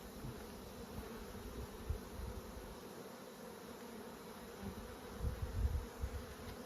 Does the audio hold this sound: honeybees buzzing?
yes